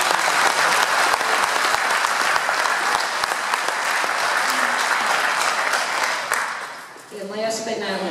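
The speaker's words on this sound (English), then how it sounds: "let's give him a round of applause" An audience at a labor friends event applauds a union caterer, steady dense clapping from many hands that fills the room, then tapers off as a voice begins at the end.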